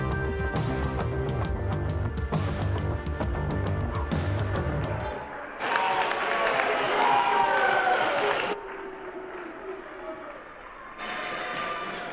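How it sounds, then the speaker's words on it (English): Applause from the audience at a university award show, bursts of clapping and crowd noise that stop and start in short stretches, with a voice over the sound of the room. "Another round of applause for this year's Miss Commodore and Mr. Commodore"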